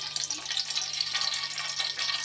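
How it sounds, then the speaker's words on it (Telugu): Oil heating in a pot on a gas stove for fish curry, a soft, steady hiss and sizzle that holds evenly throughout, faint and close, with no one speaking. "3 స్పూన్లు వేసి నూనె మరుగుతుంది."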